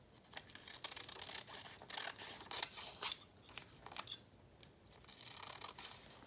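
Scissors snip through several stacked dictionary pages at once for a craft project, a run of quiet crisp cuts with a faint papery rustle between them, heard close and alone.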